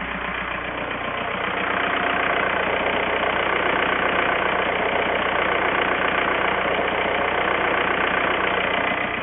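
Volkswagen ALH diesel engine idling while its injection pump timing is advanced and retarded, a steady close mechanical clatter and hum with a slight rise partway through, continuing evenly without speech.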